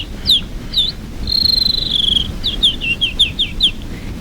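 A person whistles in imitation of a canary, producing a series of high, sharp tweets and short trilling runs, including one longer sustained note, clear and close with no background sound.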